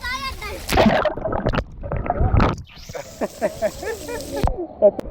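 A child plunging into a shallow water park pool, with loud splashes and sloshing water close by, broken up by excited talk and a burst of rushing water partway through.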